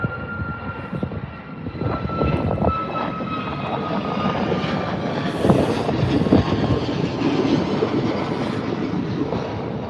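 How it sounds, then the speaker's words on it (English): A Ryanair Boeing 737 jet taking off at Birmingham airport gives a loud, steady engine roar with a whining tone that holds throughout, with no talk. "That was Ryanair heading out, 737."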